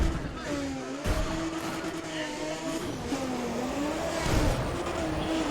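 A Mazda RX-8 drift car in the Need for Speed racing game holds a steady, wavering engine drone with small revving rises and dips and faint tire noise, while a person talks over it.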